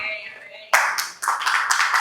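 A voice speaks briefly, then a church congregation at Igreja Ekklesia Petrópolis breaks into close, lively rhythmic clapping. The sharp regular claps continue strongly to the end.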